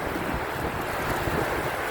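Steady wash of sea waves mixed with gusty wind rushing across the microphone, continuous and fairly loud with no voices.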